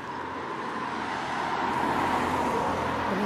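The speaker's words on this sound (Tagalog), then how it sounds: "Yun, may mga sasakyan ah." Cars pass on a road in Norway early in the morning, a steady moderate roadway hum of traffic that swells slightly midway, with no voices.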